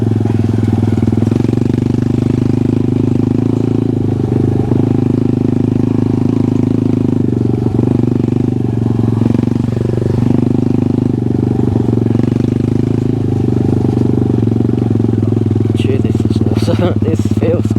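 A CF125 pit bike fitted with a swapped Lifan 140cc engine runs steadily close by, a loud, constant low engine drone held throughout with little change, and a brief clatter near the end.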